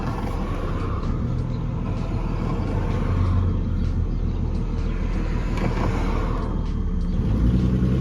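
VW Golf R32 Turbo fitted with Golf R clutch packs pulls out of a junction, its engine rumbling steadily and building slightly as it accelerates, heard from inside the car with no talk.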